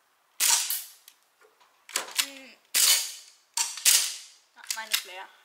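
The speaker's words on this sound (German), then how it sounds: "Hanna, komm, schieß mal mit mir." Toy cap guns fire about six sharp, loud cracks at irregular intervals nearby, with children's and adults' voices briefly audible between the shots.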